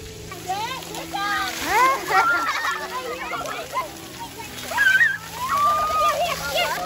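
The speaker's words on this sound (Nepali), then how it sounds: "केटाकेटी पानीमा रमाइलो" Children splashing and playing in water at a kids' fun park at a zoo in Chatham, with continuous splashing under lively chatter and excited kid voices.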